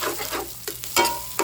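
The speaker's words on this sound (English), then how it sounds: "Saute it so the raw ginger garlic smell is gone" Crushed ginger and garlic sauté in hot oil alongside translucent onions for an eggplant curry, with a close sizzle and a few quick stirring scrapes over a short stretch.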